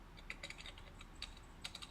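Typing on a computer keyboard, quick irregular clicks of keys in short bursts, faint and close in a quiet room, with no talking.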